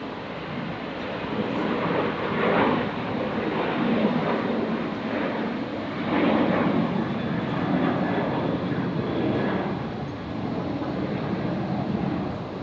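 An airliner rolls for takeoff from runway 01 left at Brisbane Airport, a broad, steady roar of jet engines that swells and ebbs in waves, continuous and fairly distant, with no one talking over it.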